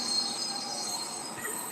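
Train emergency brakes engaged in the Roblox game High Iron, heard as a steady, sustained metallic rail hiss with high squealing tones, constant and fairly loud with no one talking.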